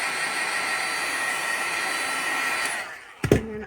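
An embossing heat tool blows a loud, steady airy whir for a few seconds over crafting powder, then cuts out, followed by a couple of short knocks and rattles.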